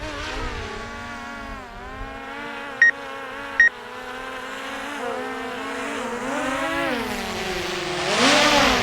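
A DJI Mavic Air 2 drone on aftermarket propellers hovers and maneuvers, its steady whining buzz rising and falling in pitch, with two brief sharp beeps partway through and a louder surge at the end.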